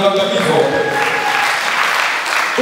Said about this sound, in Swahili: Piga Yesu makofi kwa sababu waliwaangamiza wote.